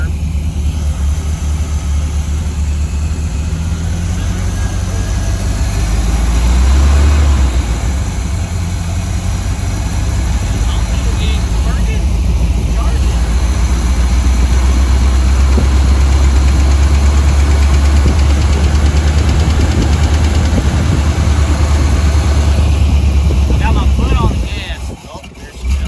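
Chevy square body truck engine running at a loud, close idle, a steady low rumble with slight roughness throughout, briefly revving near the start and cutting out at the end; a person speaks over it.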